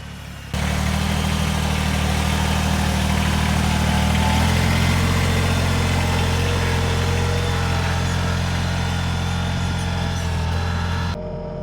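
A Kubota BX2380 compact tractor engine idles steadily and loud up close for about eleven seconds, a continuous low diesel rumble with a faint mechanical whine, heard alone during a Minnesota snowstorm.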